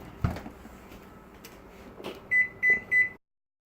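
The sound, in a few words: oven timer beeping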